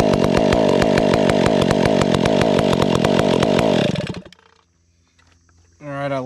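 A Ripsaw 500i chainsaw runs loud and close with a steady buzzing idle, then cuts off abruptly and goes quiet before a short burst of sound and a voice come back at the end.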